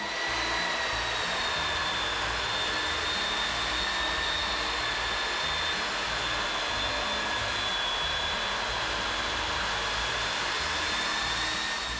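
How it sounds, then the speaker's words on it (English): A belt sander runs continuously and loudly along the top edge of a workbench, giving a steady whining drone with no pauses. "I'm going to put the belt sander on that"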